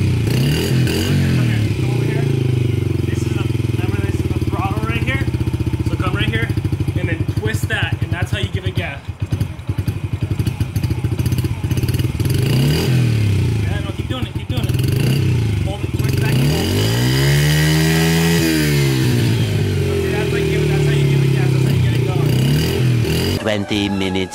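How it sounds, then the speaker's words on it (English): A dirt bike engine runs while warming up, a loud, close, steady buzzing drone whose pitch swells and dips with small revs, with people talking over it. "When you first start your bike, you got to let it warm up for a while."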